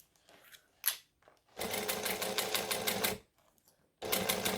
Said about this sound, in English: So I'm going to stitch, I'm going to back stitch.